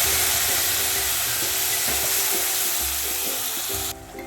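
Tomato puree for egg curry sizzles loudly and steadily as it fries in a pan, with faint clinks and stirring underneath before the hiss drops off at the very end.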